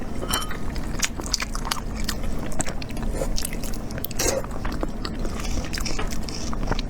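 Someone chews on a dark, home-braised beef bone, with close, loud crunching bites and wet gnawing repeating steadily over a low background hum.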